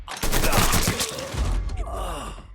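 Gunfire during a firefight in the video game Mafia III, a loud burst of shots with groaning and effortful voice sounds mixed in, followed by a rattling tail of further shots and clatter.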